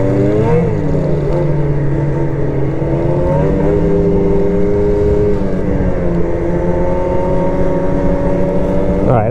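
A BRP Lynx Xterrain 900R snowmobile engine runs steadily throughout, a loud close drone with shifting harmonic tones as revs rise and fall slightly.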